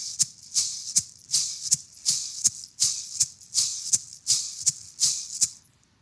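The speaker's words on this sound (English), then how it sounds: "Finally, we're going to add some maracas." Maracas shaken in a cumbia rhythm, bright rattling swishes of seed-filled shakers in a steady repeating pattern with crisp accented strokes, close and solo.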